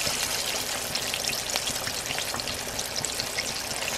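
Chicken wings fry in hot grease with a steady, dense sizzle and crackle that runs continuously. It sounds close and fairly loud, with no talking.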